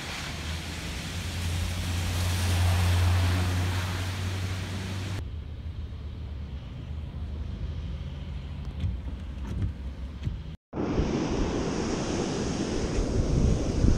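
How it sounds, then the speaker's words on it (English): Ocean surf and wind on a beach in rough, windy conditions with the swell up. Breaking waves roar with a broadband wash and gusts buffet the microphone. After a brief cut, louder surf and wind noise return. "The swell's a little up, it's a little windy, and there's some seaweed in the water"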